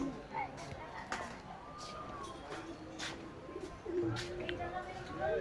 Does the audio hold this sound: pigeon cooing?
yes